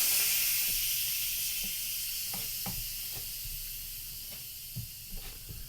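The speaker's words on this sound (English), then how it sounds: "Now I'm going to do a quick release of the pressure." Steam hisses out of a pressure cooker on quick release while chili con carne cooks, a broad continuous hiss that slowly fades, with faint clicks and knocks underneath.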